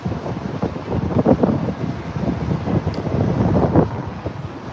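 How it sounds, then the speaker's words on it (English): Strong wind buffets the microphone with loud, continuous low rumbling and gusty roaring that swells and eases, with no other sound standing out. "windy as balls"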